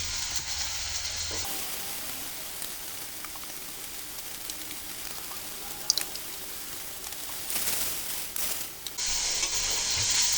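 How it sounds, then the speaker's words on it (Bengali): Salt, turmeric, chili and cumin powder fry in hot oil with a steady close sizzle and hiss, punctuated by a few scrapes of stirring, with louder spattering bursts near the end. "মশলাগুলো সুন্দর করে কষিয়ে নেবো"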